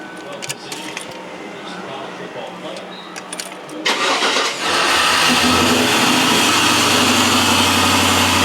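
An LS-swapped Chevrolet Monte Carlo SS cranks and fires midway, its V8 settling into a loud, steady idle that fills the rest; keys and light handling noise come first, with a voice heard in the background.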